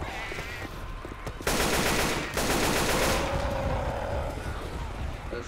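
Rapid automatic gunfire in the Left 4 Dead 2 zombie shooter, a dense, loud burst that starts after a quieter moment, then continuing shots and rumble.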